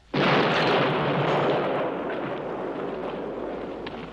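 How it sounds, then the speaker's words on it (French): A single heavy cannon blast in a 1971 western film booms out suddenly, then a long rumbling roar slowly fades away. There is no talking. "Faites taire ce canon et je vous relâche."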